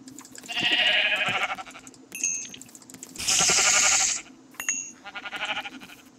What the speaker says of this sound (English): There's a lot of sheep